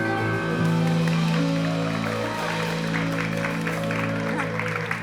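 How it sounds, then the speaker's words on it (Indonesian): A studio audience breaks into steady applause during a talk show, a moderately loud wash of clapping lasting several seconds over a background hum, with hosts talking faintly beneath it. "Jangan tepuk tangan, jadi nggak serem."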